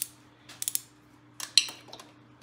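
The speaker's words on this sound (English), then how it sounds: "wonder if my ratchet half inch will fit in there" A half-inch ratchet clinking against metal as it is fitted into a cramped spot on a Kohler Magnum 18 engine, with a few sharp metallic taps and rattles, close and sparse, over quiet background hum.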